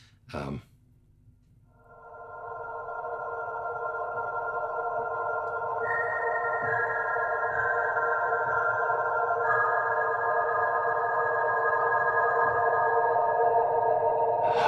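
Textured synth pad from the Frozen Planet instrument library, a soft swelling chord that fades in after a brief click and sustains evenly with a slight shift partway through.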